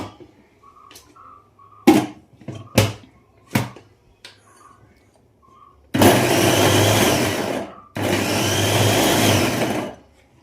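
An electric kitchen chopper whirs in a bowl that earlier held chopped onions, preceded by a few sharp knocks, then two loud sustained spinning bursts with a short pause between.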